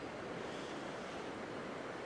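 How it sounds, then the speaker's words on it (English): Flooded river water on the Ping River in Chom Thong rushes against a wall of weir sluice gates, a dense, constant roar that is loud and unbroken, with no voices. "The water comes around the bend and then hits this wall of sluice"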